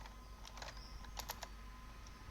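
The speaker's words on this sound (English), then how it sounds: "You open up the terminal and then you type in cd /.configs" Typing a terminal command on a computer keyboard: a few faint, quick key clicks in two small clusters, low against a steady background hiss.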